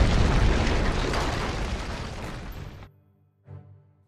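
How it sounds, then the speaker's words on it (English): A cannon blast setting off a massive snow avalanche, a loud rumbling roar that fades over nearly three seconds before cutting off, followed by a brief softer thud. "The cannon caused a massive avalanche of snow to fall on the Huns."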